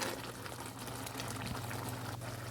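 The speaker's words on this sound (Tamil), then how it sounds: "பாருங்கள், தண்ணி வந்து கொதிச்சிட்ருக்குது." Water boiling in a cooking pot of chickpea biryani with rice, a steady bubbling and hissing simmer, close and continuous, with no voices.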